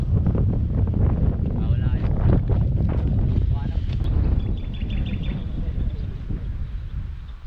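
Strong gusts batter the microphone near a boat, a heavy rumbling roar that swells and eases, with people talking loudly over it.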